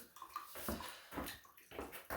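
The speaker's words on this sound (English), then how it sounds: "You still hear it dripping, which means the relief is shot as well." Water trickles and drips from a failing boiler pressure relief valve, an irregular run of close wet splashes and gurgles at low level with no talk.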